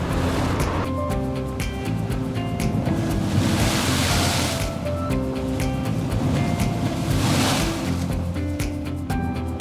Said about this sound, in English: Beautiful swell rolling in.